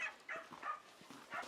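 Dogs at feeding time in a Moldovan village in winter give short, faint yips and whimpers at a distance, several brief calls in quick succession.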